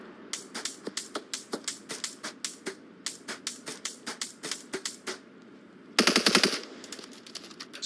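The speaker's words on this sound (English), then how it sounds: "got hit by 1 of those gunshots" Rapid bursts of automatic gunfire crack out in a video game shooter match, short clipped volleys at a quick, uneven rhythm, ending in a denser, louder burst.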